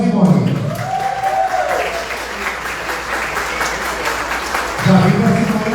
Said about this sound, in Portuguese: Palmas para a Simone